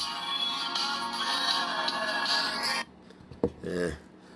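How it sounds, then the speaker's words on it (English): A tonal electronic ringtone melody plays for a few seconds, then stops abruptly, followed by a brief click and quiet room sound. "I don't think I'll ever change that ringtone"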